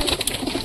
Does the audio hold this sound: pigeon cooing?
yes